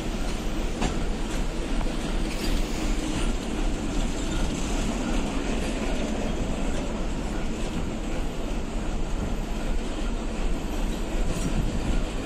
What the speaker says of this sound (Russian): 534С, Адлер Москва, прибытие в 14:26